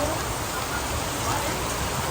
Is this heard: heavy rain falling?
yes